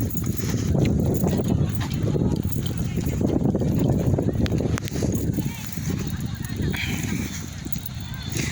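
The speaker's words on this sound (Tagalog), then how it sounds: "Yung kabayo na yan, sakyan mo." A horse walks on Tila Pilon Hills, its hooves giving faint scattered clip-clops beneath a constant rumble of outdoor noise and people talking nearby.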